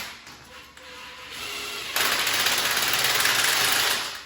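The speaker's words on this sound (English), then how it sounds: "finish up, tightening up the rest of these, and I am using my gun" A power gun tightens bolts on a Mod Furniture swinging egg chair: faint rattling first, then a louder sustained buzzing whir lasting a couple of seconds close by, with no one talking.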